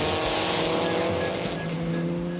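Vintage race cars at the Le Mans Classic roaring hard and close, engines screaming at high revs with tyres squealing, a loud continuous wall of motor noise with no voices.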